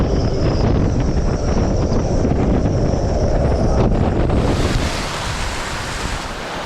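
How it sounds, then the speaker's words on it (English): Loud, steady roar of strong wind at Holyhead buffeting the microphone, with a rushing surf-like texture that continues without a break throughout. "Lots and lots of wind."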